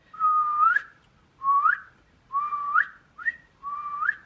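A person imitates a guinea pig with five short, whistled squeaks, each rising at the end, repeated in an even rhythm and heard up close with no other sound.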